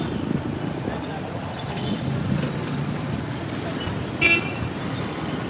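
Road traffic rumbles along the busiest street in Maramag town, a steady mix of passing engines and tire noise with a short horn toot near the end, captured close while walking beside the road.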